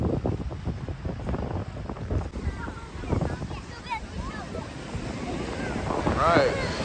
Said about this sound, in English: Much calmer waves than last weekend.